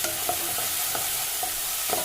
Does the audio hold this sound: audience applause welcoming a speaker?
no